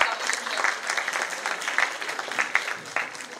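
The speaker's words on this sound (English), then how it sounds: "Yes, at least you can clap for the people who are coming here." Applause for the speakers at an International Women's Day 2023 celebration, a small crowd clapping steadily and fairly close for a few seconds, with talk heard over it.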